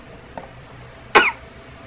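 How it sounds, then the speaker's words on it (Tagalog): One person gives a single loud, harsh cough, close to the mic, after a faint click in an otherwise quiet room. "Grabe na ubo ko."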